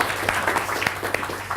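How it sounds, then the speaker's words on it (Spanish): A small audience at a storytelling workshop gives a short burst of scattered clapping for a visitor, individual claps distinct and moderately close. "¿Le damos un aplauso al que vino?"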